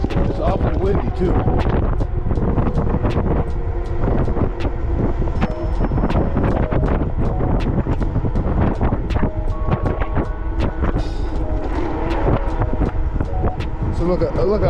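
Wind buffets the microphone while someone rides an ebike at around 17 to 18 mph, giving a loud continuous roar with gusty bursts throughout.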